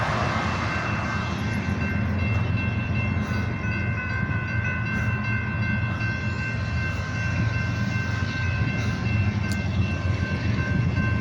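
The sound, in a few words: freight train with multiple locomotives passing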